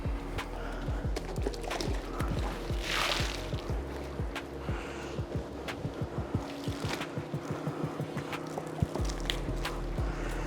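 A car wash mitt is rinsed out while a large VW Crafter camper van is being washed, giving repeated wet squelches and sloshing water at close range with a brief splashy surge partway through.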